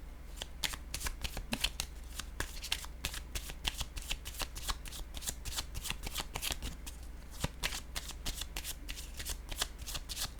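A deck of cards is shuffled over and over for a card reading, giving a steady stream of crisp riffling and snapping flutters close up, with a low hum beneath.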